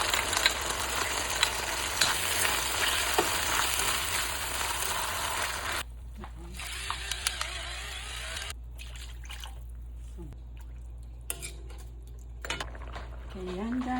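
Sardines frying in a pan for the Waray dish odong, with a steady close sizzle and hiss plus scattered clinks of a utensil against the pan; the sizzle softens partway through while light kitchen noises continue.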